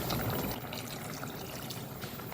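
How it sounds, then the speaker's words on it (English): Hot water poured into a Kerala-style potato coconut milk stew on the stove, a steady splashing rush that stays fairly even and close for the whole stretch. "I'm going to increase the fire a bit more and add some hot water before I add the coconut milk."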